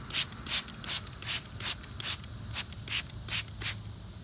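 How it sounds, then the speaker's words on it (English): Mist spray bottle wetting a tissue laid over a plant cutting: about eleven short, sharp hissing spritzes in a steady rhythm, close and fairly quiet, with no talk. "We're going to take our mist bottle here. We're going to go ahead and wet this tissue."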